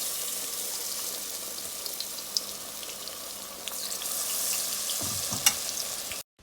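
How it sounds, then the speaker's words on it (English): Steady crackling sizzle of eggplant fritters frying in hot oil, close and continuous, with a few small pops and a brief clatter near the end. "These are frying up quicker than I thought."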